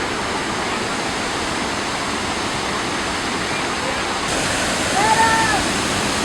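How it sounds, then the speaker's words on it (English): Roaring broadband wash of the American Falls at Niagara Falls, steady and close with heavy mist, a continuous thunderous rush filling the whole clip with a faint brief whistle-like tone near the end. "is walking up the side of Niagara Falls, well actually American Falls. See all the mist coming down."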